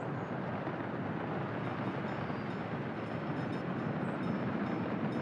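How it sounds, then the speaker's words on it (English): A waste train arriving in the city-building game Workers & Resources produces a steady, broadband rumble of rolling rail cars, continuous and moderately loud with no voices. "The other waste train should be coming in from this side and parking over there."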